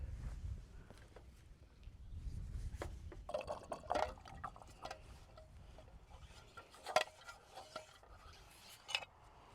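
Water draining out of a disconnected garden hose outdoors: faint, irregular trickling and dripping with soft splashes and occasional rustles, quiet and close.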